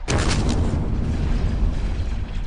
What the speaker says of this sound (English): An explosion vaporized the major where he'd stood